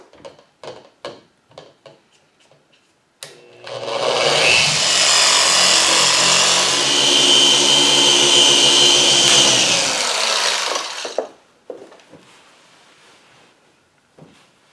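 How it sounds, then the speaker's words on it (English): On a 2004 Audi B6 S4 with heavily damaged clear coat, a machine polisher with a microfiber pad spins up into a loud, steady whir for about seven seconds and then stops, with light handling clicks before and after. "next step is to spend a bit more time on this with the microfiber pad"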